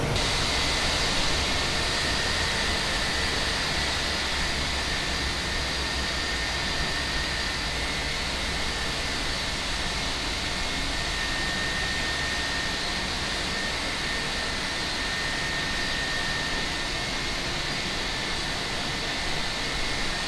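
A steady, loud jet-engine roar from a PMDG Boeing 737 in Microsoft Flight Simulator as its engines are shut down at the gate, a constant broadband whine with no clear spool-down and no voices.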